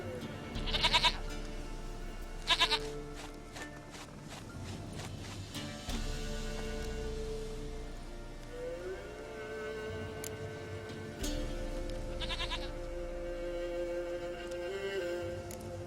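A goat bleats twice in close succession, then once more later, over a steady layer of ambient music and background sound in the video game The Witcher 3.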